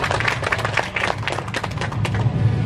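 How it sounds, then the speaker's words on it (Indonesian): Audience applause at the opening of the 2022 National Traditional Nusantara Cloth Exhibition at Museum Pongtiku in North Toraja, with dense clapping close by and a low rumble of crowd noise beneath it. "Kita beri tepuk tangan yang meriah."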